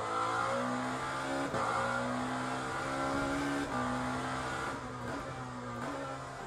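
A video game Lamborghini race car engine in Le Mans Ultimate revs high and loud, climbing through gear shifts with brief dips between each, steady and close throughout.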